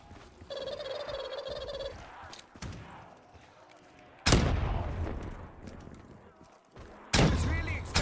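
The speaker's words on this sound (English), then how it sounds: "I was really expecting gravity to play more of a part in that explosion." Loud explosion bursts in a video game, two sudden broadband blasts that decay into rumble, preceded by warbling game tones and clicks.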